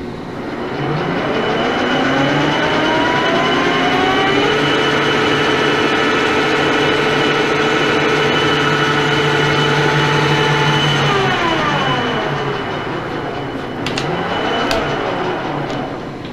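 A Pratt & Whitney Model B lathe runs at 800 rpm with a loud, steady mechanical hum and whine. Its tones rise early, hold level, then shift down near the end, alongside faint clicks.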